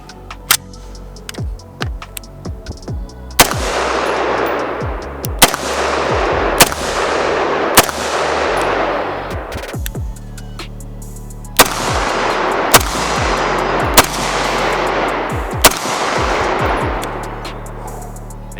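A Master of Arms ENYO AR-15 rifle fires about a dozen loud, close shots at irregular intervals outdoors, each with a sharp crack and a long echoing decay.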